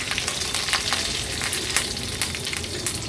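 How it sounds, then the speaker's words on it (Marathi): Cumin seeds and curry leaves sizzling in hot oil for a tempering, a loud dense crackling fry close up with rapid popping bursts throughout, no voices. "आता फोडणीला आपण अर्धा चमचा जिरं घालूया कढीपत्त्याची पानं"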